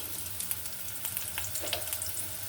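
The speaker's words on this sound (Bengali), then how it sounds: "বেশ কিছু পেঁয়াজ কুচি এখানে আমি এটা ভালো করে ভেজে নেবো" Chopped onions fry in oil with cinnamon and cardamom, a soft steady sizzle with occasional crackles and faint stirring, fairly quiet and close.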